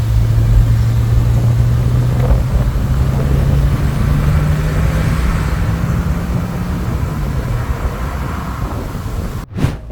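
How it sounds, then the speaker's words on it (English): Renault 5 GT Turbo driving on the road, a loud steady engine rumble with a slowly rising pitch as it accelerates, ending with a brief sharp knock. "We're out in the Renault 5."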